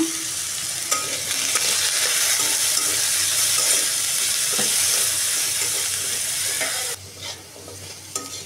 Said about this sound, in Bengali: আলুতে দিয়ে দেবো সামান্য একটু হলুদ আর একটু লবণ দিব, দিয়ে এটা আমি ভেজে নেব।